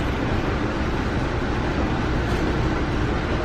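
Steady broadband rumble and rattle from inside a moving Amtrak Lake Shore Limited passenger train, a constant loud roar of wheels on track with no speech.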